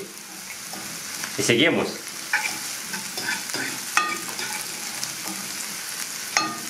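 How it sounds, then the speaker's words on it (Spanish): Salted onion sautés in a frying pan, a constant close sizzle with occasional scraping stirs and utensil taps; a brief spoken phrase passes over it. "voy a dejar la cebolla que se poche"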